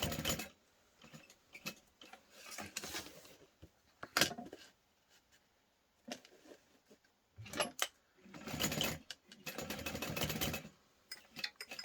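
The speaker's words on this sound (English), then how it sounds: "sew a line and you're going to backstitch at the start and the stop" A sewing machine stitches a portable console case in quick irregular bursts of whirring, clattering needle strokes separated by short pauses, fairly quiet throughout.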